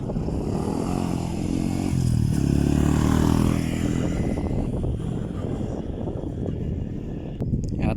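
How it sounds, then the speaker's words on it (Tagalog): A motorcycle arrives outdoors under a stormy sky, its engine droning and swelling as it nears, then easing off, steady and fairly close throughout. "may dala ng isang motor"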